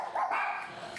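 A dog barking in a home near Congonhas airport, a single brief yelping bark heard at moderate distance, fairly faint and alone.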